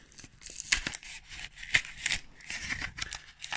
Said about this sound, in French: On va passer tout de suite à l'ouverture des 2 petits boosters Couronne Stellaire.